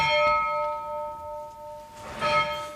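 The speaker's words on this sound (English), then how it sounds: "a former Ferndale miner, rings the bell for the men who lost their lives at this moment" A memorial church bell tolls for the men lost in the Ferndale mining disaster, a rung tone with long ringing harmonics that hang and decay, then a second fresh strike near the end.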